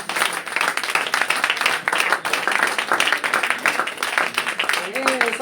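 Congregation at an evangelical French-speaking church service clapping and cheering to acclaim Jesus, a continuous energetic wash of claps and shouts with voices calling out throughout.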